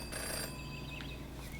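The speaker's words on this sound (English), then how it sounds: "Jenny had learned never to ignore a ringing phone." A telephone rings faintly in the adventure game Jenny LeClue, a short steady electronic trill over a quiet humming background, with no voices.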